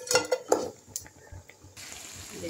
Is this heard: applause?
no